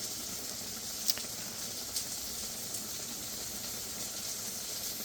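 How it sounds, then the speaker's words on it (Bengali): Bitter gourd curry with small kechki fish boils uncovered over a high flame, giving a steady, soft hiss of bubbling and steam with a few faint ticks and no talk. "এখন কভার ছাড়াই সিদ্ধ করব, জালও কমাবো না"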